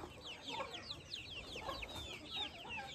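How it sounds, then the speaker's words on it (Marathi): Free-range desi village chickens cluck steadily through the whole stretch, a flock of overlapping calls at moderate distance with no voices present. "पूर्ण असं मुक्त संचार गावरान कुक्कुटपालन मित्रांनो पूर्ण फ्री रेंजमध्ये"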